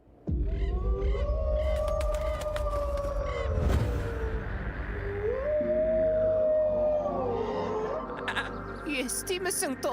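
Wolves howling close by in a Kazakh children's cartoon, long rising and falling wails layered over a dense, busy soundtrack, with a voice speaking briefly near the end.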